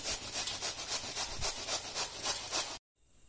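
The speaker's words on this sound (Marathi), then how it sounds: "कोबी चिरून मस्तपैकी किसून घ्यायचा आहे। मी कोबी किसून घेतेय।" Cabbage is grated by hand in a home kitchen, making fast, rhythmic scraping strokes that are close and fairly loud for nearly three seconds before stopping abruptly.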